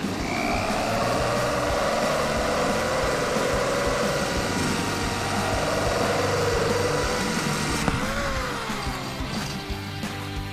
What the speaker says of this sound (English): Push down on the drill. Its weight alone is enough to give enough pressure to drill.